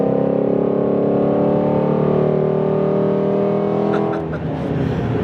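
A Ford Mustang GT350 with long tube headers, an X-pipe and stock mufflers idles with a loud, steady, resonant exhaust drone close by, holding evenly for about five seconds with a few faint clicks near the end.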